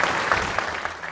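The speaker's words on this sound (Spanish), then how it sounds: "no se había escuchado una ovación similar en estos congresos" A packed congress audience in Capilla del Monte breaks into an ovation, a brief burst of dense, steady clapping from many hands filling the room.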